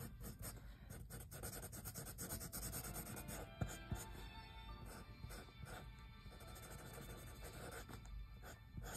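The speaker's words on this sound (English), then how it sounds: "I'm using a Sharpie" A Sharpie marker draws a cartoon fish with lips, accents and bubbles on paper, giving a steady close-up rubbing and squeaking scratch that runs continuously with brief pauses and one sharper tap.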